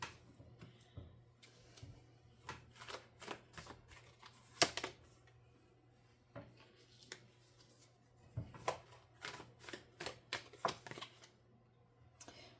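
Tarot cards are shuffled and handled close by in a quiet room, giving soft crisp riffles, taps and flicks in irregular bursts.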